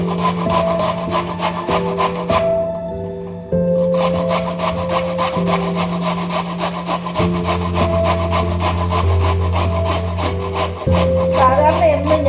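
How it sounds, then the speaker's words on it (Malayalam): Beetroot being grated for a thoran makes repeated rhythmic rasping strokes against the grater, close and fairly loud, with a short pause partway through. "ഇന്നാണ് ഞാൻ ഉരച്ചെടുക്കും."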